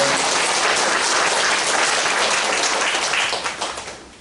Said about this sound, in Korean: 네, 박수 보내주세요.